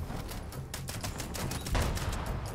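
Gunfire in Fallout 76 as a grenade launcher is fired, rapid bursts of shots and blasts overlapping in a continuous rattle, fairly quiet, with one heavier boom partway through.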